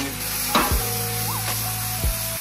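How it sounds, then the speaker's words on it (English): Green onion and white onion sizzle while stir-frying in a hot pan with a steady hiss, punctuated by a few scraping stirs, close up with no talking. "Stir frying some vegetables, green onion and white onion."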